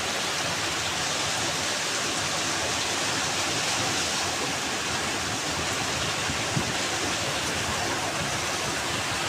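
Heavy rain pours down in a dense, steady hiss that never lets up, loud and close throughout.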